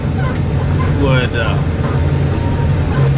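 A tractor pulling an 18-foot offset disc through a field on a first pass, a steady low engine drone filling the whole stretch beneath nearby talk.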